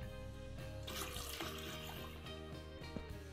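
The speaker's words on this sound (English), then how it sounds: "Oh wow, there's even a shower." Shower running in a Minecraft furniture map, a soft continuous splash of water under a steady synthetic tonal drone, faint and close.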